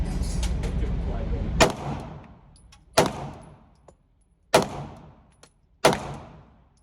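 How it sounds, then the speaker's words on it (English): Glock 19 pistol fired four times at 15 yards, sharp separate reports spaced roughly one and a half seconds apart, each decaying quickly over a low background murmur. "Four shots, 15 yards."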